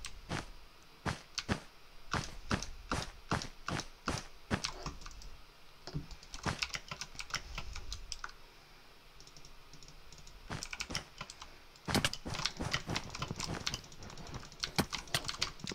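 Rapid bursts of computer keyboard keystrokes during a Bedwars game, dense clattering runs broken by short pauses, close and fairly loud, with no speech over them.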